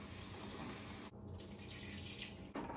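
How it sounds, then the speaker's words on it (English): Tap water runs steadily into a sink while mushrooms are rinsed, a continuous close splashing rush with a brief change in flow partway through. "I'm gonna rinse off these mushrooms and pat them dry."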